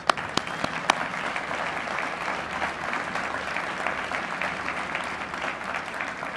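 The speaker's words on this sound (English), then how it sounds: "Let's give them a round of applause." An audience at a city State of the City address gives a steady round of applause, moderately loud, with a few sharp individual claps standing out at the start.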